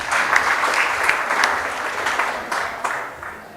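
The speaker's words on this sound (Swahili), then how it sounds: "Simpigie hata mzee makofi." Audience applause for an elder at a Turkana West debate, a steady crowd clapping with a few louder bursts, heard without talk over it.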